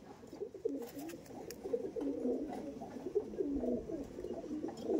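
A male pigeon coos in low, rolling, repeated phrases at close range, steady throughout with no voices.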